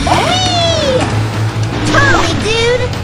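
Cartoon cat meowing in a Paw Patrol video game, a few rising and falling meows over busy game music, with a child-like character voice and chatter nearby.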